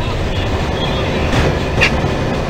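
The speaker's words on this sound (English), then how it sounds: "There's a passenger train" A video game passenger train rumbles past close by with steady clattering wheels and a brief metallic squeal, loud and continuous.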